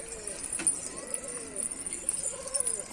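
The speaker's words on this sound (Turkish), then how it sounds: "Kuşlarımız indi bu arada." Pigeons settle on a rooftop loft and coo softly in low, rolling calls, with faint chirps and light fluttering or footfalls mixed in at moderate distance.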